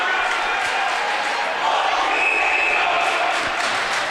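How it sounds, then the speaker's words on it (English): A crowd at a varsity high school ice hockey quarterfinal between Smithtown Hauppauge and Sachem makes a continuous roaring cheer that swells slightly midway, with arena echo throughout and possible commentary beneath. "You can hear the crowd getting into it."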